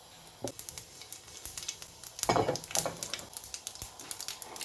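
Onions and green chillies drop into hot oil with mustard seeds and cumin, bursting into a close, loud sizzle with sharp crackles and stirring scrapes that keep popping throughout.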